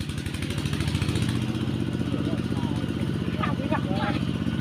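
A modified, souped-up vehicle engine rumbles close by on a rural road with a steady, throbbing idle, while a person talks over it.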